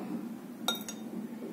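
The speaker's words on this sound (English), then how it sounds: "I'm taking a glass slide." A glass microscope slide clinks twice in quick succession as it is picked up and handled, a brief, faint, close chime over a quiet room.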